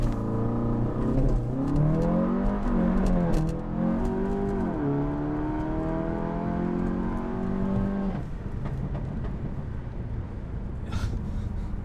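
An APR Stage 2 tuned VW GTI holding revs on launch control, its engine droning loud and steady near the limiter with a few rising and dipping sweeps, close and continuous throughout.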